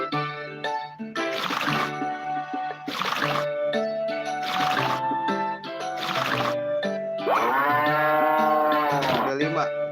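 Cows in the farming video game Harvest Moon: The Tale of Two Towns moo repeatedly, several loud drawn-out game-sound moos in sequence with short gaps, over a soft musical background.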